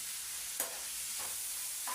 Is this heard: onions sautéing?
yes